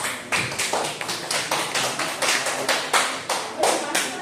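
A small group in a teacher-training session claps hands together in a steady, somewhat sparse rhythm of distinct close slaps that continues throughout, with no talking over it.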